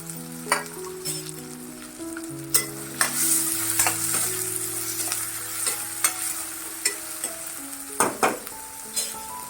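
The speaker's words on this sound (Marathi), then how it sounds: "कांदा परतून घ्यायचा मऊ होण्यासाठी थोडं मीठ घालते" Onion sautéing with garlic in a pan for a wild-vegetable dish, a constant close sizzle punctuated by repeated scraping, clinking spatula strokes against the pan.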